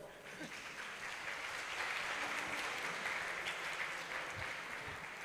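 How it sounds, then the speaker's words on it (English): A seminar audience at a police academy school event gives a sustained round of applause, steady and fairly distant clapping from a large crowd with a faint voice or two underneath. "Please give a round of applause."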